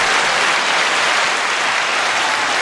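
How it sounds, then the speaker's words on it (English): A dense, steady wall of crowd applause from a sound effect, loud and unbroken throughout with no voices over it. "Big applause. Big applause."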